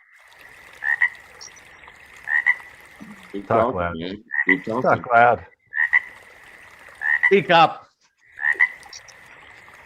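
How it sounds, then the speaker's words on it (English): A frog croaks in repeated loud bursts that recur every couple of seconds, alternating with a person speaking between and over the calls. "don't be afraid of the frog"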